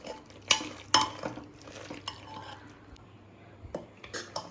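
Macaroni with chili flakes being stirred in a pressure cooker, with a spoon scraping and clinking against the metal pot in a few sharp knocks, then softer wet stirring and scraping up close.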